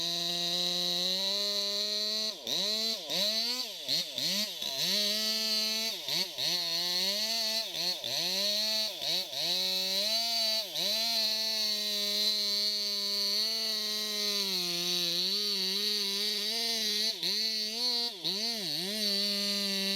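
A chainsaw engine roars continuously at close range while felling a huge old cedar, its pitch repeatedly dipping and recovering as the blade bogs down under load. No voices are heard.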